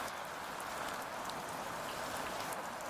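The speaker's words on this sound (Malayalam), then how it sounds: "അതിശക്തമായ മഴയാണ് തുടരുന്നത്." Heavy rain pours steadily over Kochi during a stormy spell, a dense, continuous hiss of drops striking surfaces close by, unbroken and with no voices.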